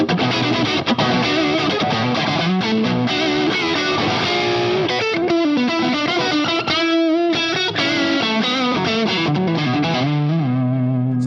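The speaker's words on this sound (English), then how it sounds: "the second channel I have set up in just kind of a tight crunch mode." Electric guitar is played through a Mesa Boogie Stiletto Deuce amp on a tight crunch channel with no pedals, a loud, sustained run of distorted chords and singing lead lines with no talking.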